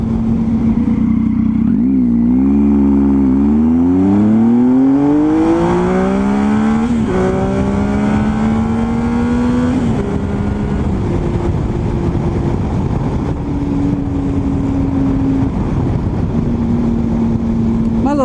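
A Triumph Tiger motorcycle rides along an alternate route, its engine loud and close throughout as it revs up through several rising gear changes and then settles into a steady cruising drone over constant wind noise.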